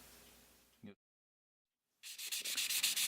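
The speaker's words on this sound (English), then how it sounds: "Now I've scuffed up the tubes here to remove the shiny finish from the outside." Pen tubes sanded by hand with 600 grit sandpaper give quick rhythmic scratchy strokes, close and fairly loud, after a short pause of silence.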